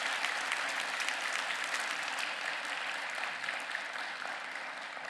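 Dense, steady applause from a church congregation at a Wednesday prayer service, honouring the pastors, sustained at an even level throughout with no voices over it.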